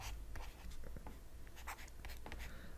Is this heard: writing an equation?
yes